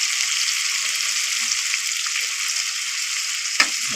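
Tomatoes sizzle in hot oil while frying for a raw banana curry, a steady bright crackle throughout with one brief stirring clatter near the end.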